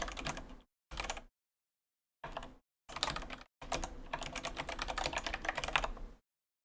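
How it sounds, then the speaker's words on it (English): Typing on a black Kinesis Advantage ergonomic keyboard at a desktop computer: close, crisp key clicks in short bursts separated by pauses, ending in a longer run of steady rapid keystrokes. "This is my keyboard."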